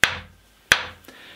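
A cooper's heavy driver hammer strikes a wooden cask bound with steel hoops twice, each a sharp ringing metallic blow that decays slowly, followed by a fainter tap.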